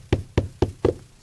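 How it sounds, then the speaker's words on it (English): A nail, an 8 or 16, is hammered into solid wood framing of a gable roof: four sharp, evenly spaced knocks, close and loud, with no voices. "take a nail, an 8 or 16, and you'll know when you hit something solid"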